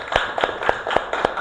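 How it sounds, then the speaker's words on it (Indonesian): Brief rhythmic applause from a classroom group, about six even claps in a steady beat, close and moderately loud with no talking. "Tepuk tangan untuk kelompok"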